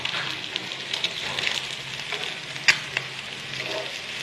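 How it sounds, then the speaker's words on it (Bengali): Eggs fry in a pan beside potatoes, giving a bright, steady crackling sizzle with scattered pops and one sharp utensil tap, heard up close with no one speaking. "আর এই সাইডে আমি ডিমগুলো ভেজে নিচ্ছি"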